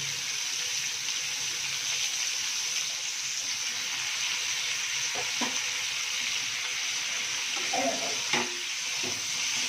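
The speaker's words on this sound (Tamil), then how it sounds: "இப்போ கருவாடை தனியாக எண்ணெயில் போட்டுக்கலாம்." Dried fish dropped into hot oil for a spicy dry fish thokku gives a steady, close frying sizzle throughout, with a few brief clinks and stirring knocks near the end.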